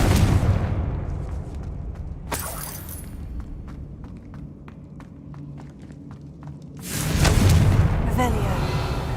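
Blasting spell explosions in the fantasy video game Hogwarts Legacy, played on PC: a sharp loud burst, a stretch of quieter game ambience with short clicks, then another big rumbling blast near the end, under continuous low game sound.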